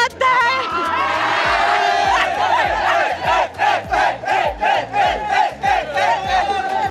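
A crowd of young football players at a youth football festival cheer and chant loudly nearby, starting with a sustained roar and then settling into rhythmic shouted bursts roughly every half second.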